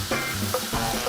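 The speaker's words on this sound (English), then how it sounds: "Now we'll go down with about 3 cups of veg stock." Vegetable stock hits a pan of toasted quinoa, giving a short, close burst of loud sizzling and stirring with a couple of swelling hisses.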